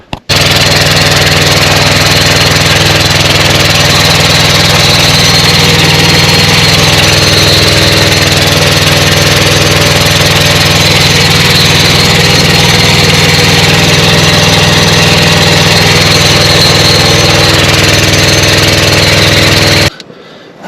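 A Scag Cheetah riding mower fitted with a Craftsman engine runs at a steady idle close by, a loud, unbroken mechanical drone with a constant hum that carries on for about twenty seconds before cutting off.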